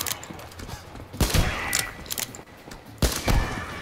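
Gunshots in the Metro Exodus video game: two loud bursts of gunfire, about two seconds apart, each followed by a short echoing tail over a dim game background with no talk.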